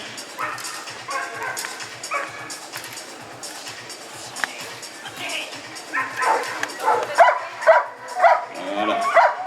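A dog barks and yips repeatedly during attack training, sharp bursts that grow more intense toward the end, with people talking nearby.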